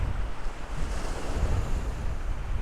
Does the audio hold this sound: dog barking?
no